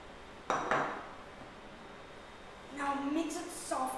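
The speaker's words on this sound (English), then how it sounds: "Now mix it softly so the paneer doesn't break." A spoon clinks and scrapes against a pan while paneer butter masala is stirred softly, giving a few brief metallic knocks in quiet surroundings, with a faint voice nearby.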